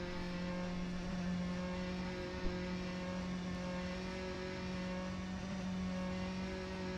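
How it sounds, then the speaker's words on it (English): Audi ABT TT-R DTM race car with a 4-liter naturally aspirated V8 lapping the Nordschleife, its engine holding a steady sustained drone with little change in pitch, at moderate level with no talk. "this car is powered by a 4-liter naturally aspirated V8, like most of the DTM cars back in that day"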